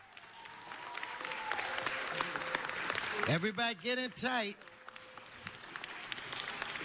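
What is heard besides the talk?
audience applause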